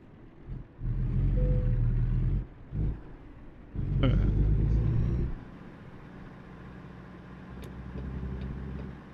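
A truck engine in a driving simulator rumbles low, surging in two or three loud revving bursts between gear shifts, then settles to a quieter steady drone.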